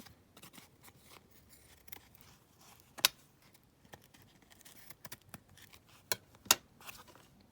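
Scissors trimming laminated paper ephemera, with quiet irregular snips and rustles, two or three sharper close clicks standing out against a faint background.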